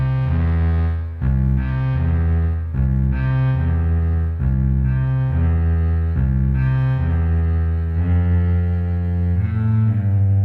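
Akai MPC X bass sound with its flavor amount lowered so it takes on an acoustic-instrument character, playing a loud, sustained harmonic bass line of repeated notes with brief breaks, heard alone without talk.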